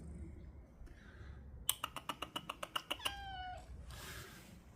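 A rapid series of sharp, repeated meows or chirps from a female cat, about ten in quick rhythm, ending in a longer falling meow, close and clear.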